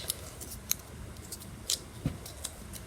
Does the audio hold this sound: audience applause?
no